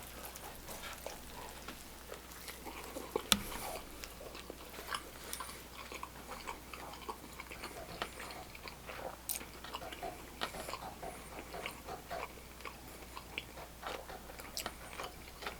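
Someone biting into and chewing a barbecue-sauced restaurant burger, with soft, steady crunching and mouth sounds close to the mic that carry on for the whole stretch, no talking.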